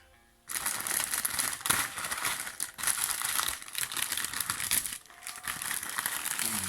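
Plastic packaging of an Eaglemoss Captain Marvel Talos figurine being opened, with loud, continuous crinkling and crumpling close by, broken by a few brief pauses, and no talking.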